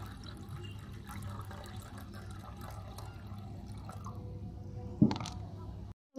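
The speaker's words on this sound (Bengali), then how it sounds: "আমি চিড়েটা কিন্তু সাদা করে ধুয়ে নেব।" Flattened rice (chira) being washed in water makes faint, soft sloshing and dripping, with a brief louder splash near the end before it cuts off.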